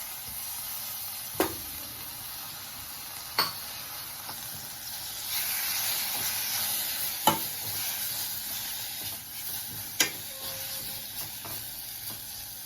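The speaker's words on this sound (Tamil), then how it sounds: "அதை அந்த நெய்யில் போட்டு வதக்கிக்கலாம்" Grated beetroot sautéing in hot ghee, a steady soft sizzle and hiss punctuated by several sharp scrapes of a spoon stirring the pan, fairly close and without talk.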